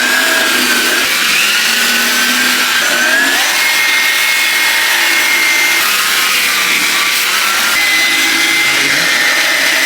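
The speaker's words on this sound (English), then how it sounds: "We're gonna dip that in our solution, and we're gonna get to scrubbing." A bristle brush scrubs a pair of Jordan 4 Retro Thunder sneakers dipped in cleaning solution, giving a steady, loud, continuous rasping swish with no pauses and no talking.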